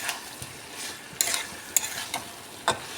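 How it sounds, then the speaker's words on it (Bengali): Fried potatoes and pointed gourd are stirred into a lentil mixture in a pan: soft sizzling under a string of distinct spatula scrapes and clacks, close by and without speech. "দিয়ে এটাকে এর সঙ্গে খুব নেড়েচেড়ে ভালো করে মিশিয়ে নেব"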